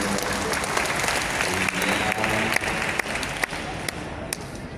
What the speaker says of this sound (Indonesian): Mari kita kasih aplaus untuk